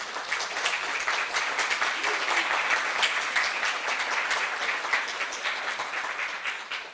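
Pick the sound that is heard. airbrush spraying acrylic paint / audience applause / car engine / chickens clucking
audience applause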